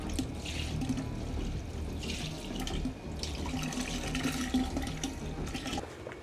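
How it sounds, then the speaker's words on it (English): Water poured from a bucket into a newly installed small shower pan drain during a DIY bathroom renovation, a steady, close rushing and splashing stream that runs continuously with no talk. "I got this bucket and I'm about to pour it in there"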